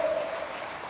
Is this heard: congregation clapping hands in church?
yes